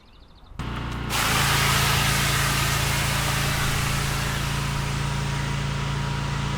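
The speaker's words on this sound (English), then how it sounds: "I'm going to wet it down 2 or 3 times to slow the evaporation" Pressure washer spraying cleaning solution onto a mossy driveway, starting with a short burst and then settling into a loud, steady hiss of spray over a constant engine drone.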